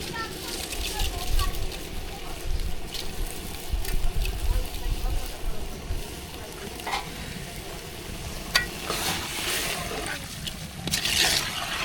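Rice tipped into a pot of khichuri simmering with five vegetables over an open village stove on a winter morning, with steady sizzling and stirring scrapes throughout and voices chatting nearby.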